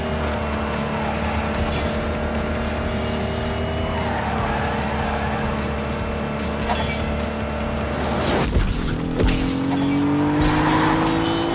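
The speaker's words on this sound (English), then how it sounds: "V6 engine, 200 horsepower." A Ford with a 200-horsepower V6 engine races in The Grand Tour video game, its loud engine droning steadily with rising revs and tire squeal, then a sharp skid and climbing whine near the end.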